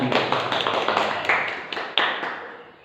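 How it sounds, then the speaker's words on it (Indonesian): A classroom of children claps hands in a short burst, a quick run of close claps that slows into a few separate final claps and then dies away. "Ya, tepuk tangan."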